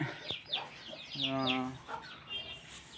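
A black hen that has begun hatching chicks clucks and croons in a few short bursts, one drawn-out throaty call in the middle, close and fairly quiet.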